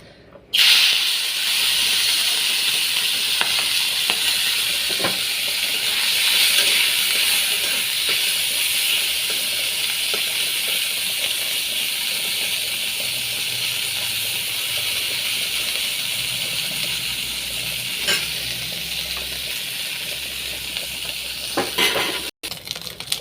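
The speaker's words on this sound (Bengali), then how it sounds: "কড়াইতে তেল দিয়ে দিয়েছি এখন আমি মাছটা ভাজবো" Fish rubbed with turmeric and salt fries in oil in a wok, giving a loud, continuous hissing sizzle that holds steady, with occasional light clicks over it.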